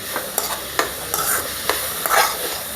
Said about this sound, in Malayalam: ആ ഇതൊന്ന് നന്നായി ഇളക്കി യോജിപ്പിക്കാം